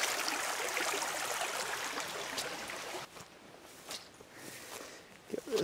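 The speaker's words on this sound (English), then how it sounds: "there's the creek. Very nice little creek." A small creek flows in a sunny outdoor spot, its soft, continuous trickle heard at close range with footsteps crunching over it and a few brief knocks near the end.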